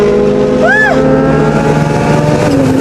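A WRC rally car at Rally Finland runs with a continuous engine drone and rising, falling pitch sweeps as it drifts past, loud and steady, with a voice briefly reacting over it.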